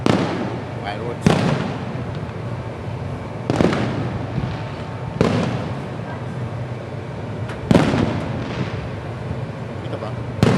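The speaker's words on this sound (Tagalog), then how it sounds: "Fireworks." Fireworks burst outside a mall in a series of sharp, booming reports spaced a couple of seconds apart, each one echoing and fading over a constant background rumble and crowd noise.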